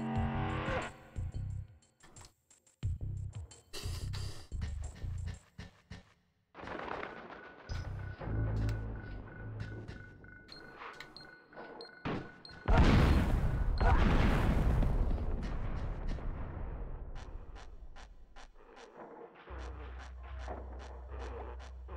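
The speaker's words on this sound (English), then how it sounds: "I'll just have to try and drop a bomb down that hatch" Bombs and blasts in the PS1 game Oddworld: Abe's Oddysee, with several sharp bursts early on, then one big heavy explosion near the middle that booms loudly and slowly fades, among other game effects.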